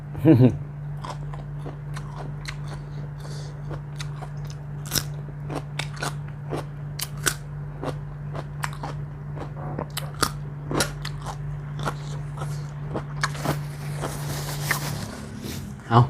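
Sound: eating crunchy Thai papaya salad with fermented fish sauce

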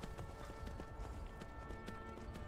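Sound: horse hooves clip-clopping in video game Skyrim

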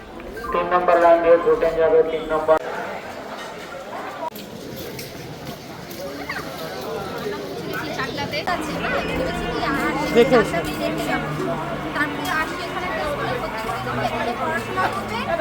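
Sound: crowd chatter at a railway station

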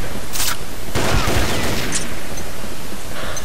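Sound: REC7 assault rifle firing in a video game

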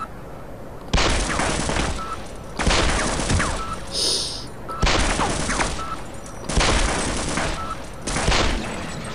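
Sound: automatic machine gun firing in video game Half-Life: Azure Sheep

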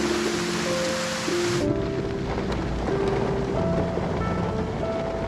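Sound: rain falling outside

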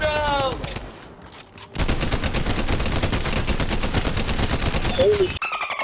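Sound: gunfire from a weapon in a video game

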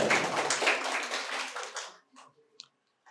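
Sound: audience applause at a quiz competition

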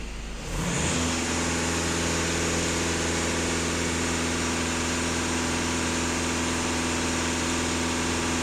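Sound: VW Golf 2.0 TDI diesel engine revving

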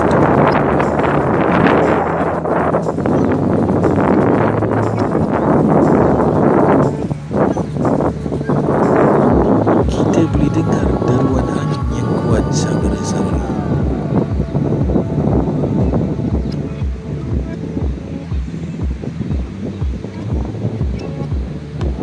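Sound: strong wind at the beach

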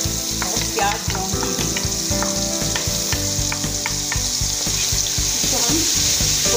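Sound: browned onion and garlic paste frying for fish salan

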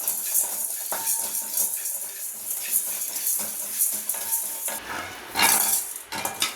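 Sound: fenugreek and spices being roasted in ghee

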